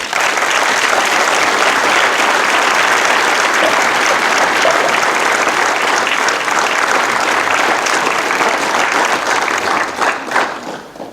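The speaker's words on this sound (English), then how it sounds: "So if we could give Barb a round of applause." Audience at a veterans' service applauding, a dense, steady roar of many hands clapping that holds loud for about ten seconds before tapering off at the end.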